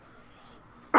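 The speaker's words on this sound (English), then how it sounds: "Gotta cough." A single sharp cough bursts out near the end after near silence, loud and close.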